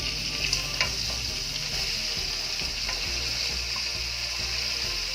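Large shrimp fry in a pan with butter and garlic, making a loud close sizzle with light stirring clinks and scrapes early on over a steady hiss.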